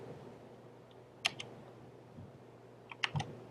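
A command is typed on a computer keyboard in a quiet room: two short bursts of crisp key clicks about two seconds apart, with a soft background hum.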